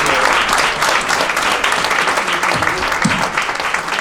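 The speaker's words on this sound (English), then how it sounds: "So I would like to give all parents for all youth awardees a big round of applause." Audience at a track and field awards brunch applauds loudly and steadily for youth awardees and their parents, a dense wash of clapping filling the whole stretch.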